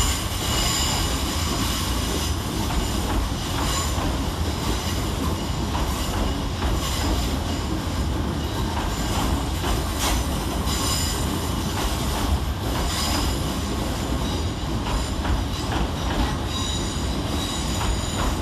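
C2C Class 357 electric multiple units move through London's Fenchurch Street station, a continuous loud rail roar with wheel squeal and rhythmic clicks over the joints throughout.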